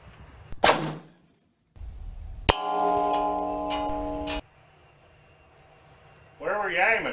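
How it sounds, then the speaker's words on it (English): A single sharp shot from a 6.5 Grendel AR-15 rifle at an outdoor range, followed by a ringing metallic clang from a steel target that sustains for a couple of seconds, then a quiet pause and a brief burst of voice. "I'm going to do a center body mass shot to see where the dope's at, and then we're going to start doing a few head shots today."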